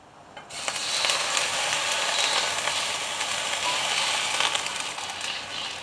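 Water hits a hot pan of fried garlic and ginger with a sudden loud burst of hissing sizzle that stays strong and steady for several seconds.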